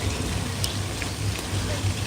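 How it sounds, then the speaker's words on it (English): Steady, dense hiss of artificial rain pouring down on a film studio set, a continuous wash of droplets with a low rumbling undertone. "It just gives us a little bit more control over the effect, so we can make it rain as hard or as light as we need it to."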